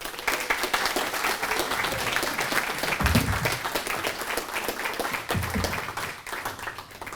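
An audience at the 132nd Henry George Address lecture applauds to welcome the speaker: a dense, steady wash of many hands clapping close by that holds for the whole stretch, with no one speaking over it.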